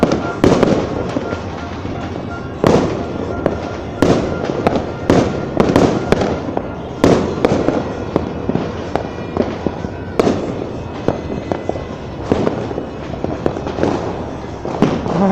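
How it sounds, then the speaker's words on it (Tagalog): New Year fireworks and firecrackers in the Philippines explode continuously, dense and loud, with repeated sharp bangs and thumps over a constant crackling roar from many directions. "Kaya nga namumula doon sa fireworks."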